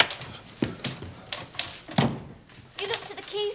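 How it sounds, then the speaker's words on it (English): Clacking typewriter keys struck in touch typing, irregular sharp strikes at a moderate pace with a brief pause, heard close and fairly quiet in an indoor room. "It's touch typing"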